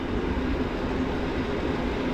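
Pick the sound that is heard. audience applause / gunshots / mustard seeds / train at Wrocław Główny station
train at Wrocław Główny station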